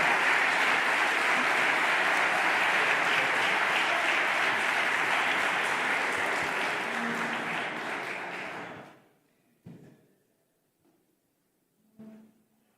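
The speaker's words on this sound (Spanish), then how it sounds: "Por favor, sube a este estrado y un fortísimo aplauso para don Gabriel Calzada." Sustained audience applause at an award ceremony, loud and dense for about nine seconds before fading out, followed by a few faint isolated sounds.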